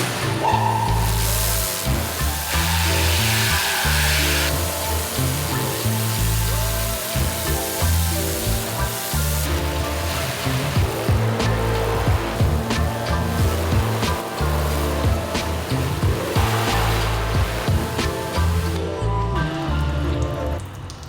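A power washer fitted with a spinning ceramic turbo nozzle sprays a filthy Kenworth truck, producing a loud, steady hissing rush of water that drums on the surface without pause.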